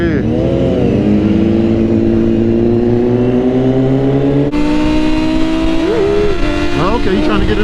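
A sport motorcycle fitted with an SC Project exhaust revs loudly and close by, its engine note climbing and falling in sustained pulls with sharp blips near the end, alongside other sport bikes such as a Kawasaki ZX-10 and BMW S1000RR.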